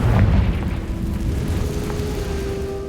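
A Confringo spell blast in the video game Hogwarts Legacy, a loud booming burst at the start that rolls off into a lingering low rumble, with no talk.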